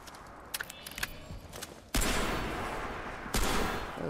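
Gunfire in the video game Crysis 3, with a basic pistol as the equipped weapon: a few sharp shots early, then two heavy loud bursts with rumbling tails, dense and close in the game mix.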